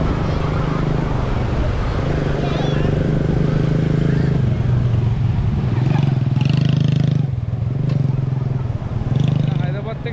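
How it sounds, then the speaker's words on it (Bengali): A quad bike drives past on sandy Bapatla Beach, its engine drone loud and close, surging and dipping as it goes, with a voice speaking over it. "এখানে এই যে কোয়াড বাইক যাচ্ছে এখান দিয়ে"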